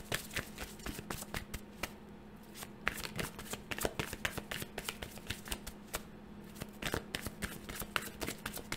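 Tarot cards shuffled by hand at close range, a quiet run of rapid riffling flicks and soft slaps in an irregular rhythm, with no speech.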